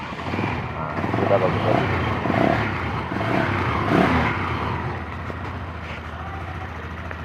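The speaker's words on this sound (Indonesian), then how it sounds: "sekarang kita coba hidupnya ya, setelah saya servis saya coba hidupnya" A freshly serviced Viar three-wheeled motorcycle engine idles in a steady, rough mechanical drone close by, while someone talks over it.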